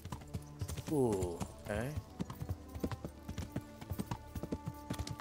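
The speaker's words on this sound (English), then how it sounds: "This is how you gotta ride a horse, by the way." Hooves clip-clop in a steady rhythm as a horse is ridden through a medieval town in the video game Kingdom Come: Deliverance, with a brief whinny early on and someone talking over the hoofbeats.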